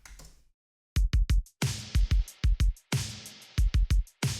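A snare drum sample with its attack stripped away and the tail compressed, sounding as a run of punchy, even hits in a quick repeating rhythm, loud and alone.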